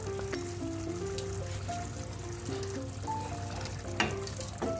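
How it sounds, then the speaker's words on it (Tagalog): Shrimp hitting a hot frying pan for Cajun-style curry seafood, giving a steady close sizzle with a few small clinks and bumps, while quiet tonal background music plays underneath. "Sige, ilagay natin ang ating hipon."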